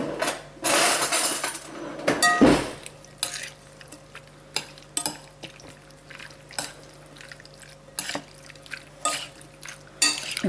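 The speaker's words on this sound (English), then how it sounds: "Now I'm going to stir this up." Cumin-seasoned pork and bacon stir fry is stirred in a pan, with scraping and clinking of the utensil against the metal in irregular bursts over a low sizzle, fairly close, no talking.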